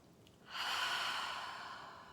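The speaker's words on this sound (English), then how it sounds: "Big breath out through your mouth" A long, steady exhale through the mouth starts after a short quiet pause and stays fairly loud and close for nearly two seconds. It is a deep, breathy whoosh that fades slowly, with no talk.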